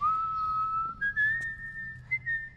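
A person in The Last of Us: Left Behind whistles a close, thin rising note, then a few short uneven toots, as if trying to get it right.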